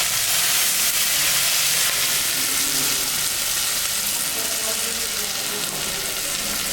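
Poppy seed paste and green chillies fry with dhenki fern greens in a pan. A loud, dense, unbroken sizzle and hiss holds steady throughout, close up, with faint stirring and no voices.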